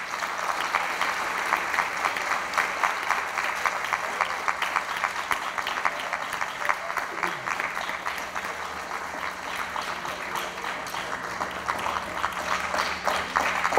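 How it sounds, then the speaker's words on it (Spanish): Applause fills a hall at a national science academy anniversary ceremony as a widow receives flowers, sustained even clapping from a crowd lasting well over ten seconds. "Fuertes aplausos para ella, por favor."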